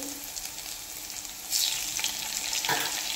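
Butter sizzles in a hot pan over a high gas flame while cooking pav bhaji, a soft frying hiss that swells louder and crackles near the end.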